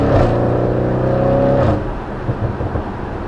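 A 730 bhp Audi RS6 downshifting on the road, its engine note blipping up loudly and then easing off into a lower, rumbling cruise, close and clear without talk.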